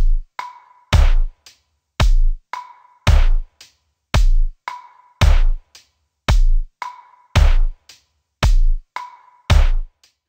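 A drum beat loop in Logic Pro run through the Beat Breaker effect for a halftime feel: loud, punchy kick and snare hits repeat in a steady, slowed groove with short gaps of silence between them, with no voices.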